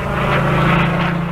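Supermarine Spitfire aircraft engine roars loud and close, a steady throbbing propeller drone that fills the short span without any voices.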